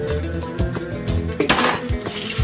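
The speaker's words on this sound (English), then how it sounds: "So I'm just chopping these potatoes into kind of" A knife chops sweet potatoes into cubes on a board in a home kitchen, a series of close, sharp knocks at an uneven rhythm, with no talk.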